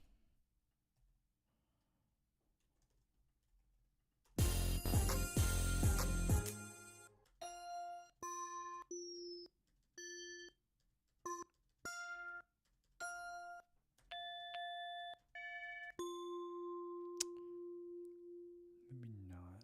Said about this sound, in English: Bell could be cool.